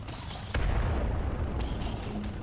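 A torpedo blast in a submarine combat game booms out low and heavy, then a rumbling roar that holds steady to the end of the short stretch.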